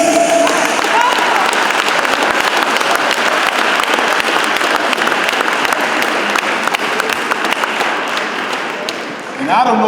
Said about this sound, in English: I don't know why some of y'all clapping